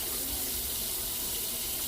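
A large cup of water, about 28 ounces, is poured into a pan of browned meat for wet burritos, a steady rushing splash that runs unbroken and fairly soft throughout.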